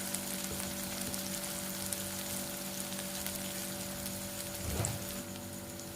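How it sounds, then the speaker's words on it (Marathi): Constant sizzling from a frying pan of sev bhaji base, then a brief louder surge of hissing as water hits the hot oil, close up and without speech. "आता यामध्ये पाणी टाकत आहे"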